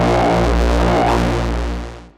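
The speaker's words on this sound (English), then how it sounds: "We got this main Reese bass" A thick, buzzing synth bass sustains a low note with a gritty, slowly phasing texture, then fades out at the end.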